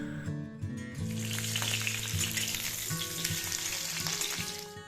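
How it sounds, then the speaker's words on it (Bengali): Potato and pumpkin chunks frying in a pan for a vegetarian pumpkin pulao, a soft continuous sizzle with gentle stirring and a low background hum. "এইভাবে আলু আর কুমড়োগুলোকে ভেজে নেব"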